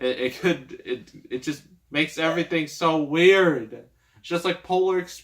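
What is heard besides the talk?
No everyday noises stand out.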